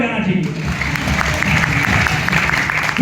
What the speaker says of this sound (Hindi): इस प्लेटफॉर्म के लिए हमें जोरदार तालियां बजाना चाहिए